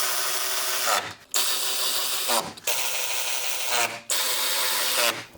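A power tool drives bolts back in during a light bar install on a Tesla Model Y Juniper, buzzing in three long whirring bursts separated by brief pauses, close and loud.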